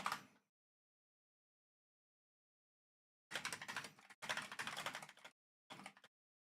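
Computer keyboard typing in three bursts of rapid, close clicking: one short burst, then after a long silence a longer run and a brief final flurry, with no talk.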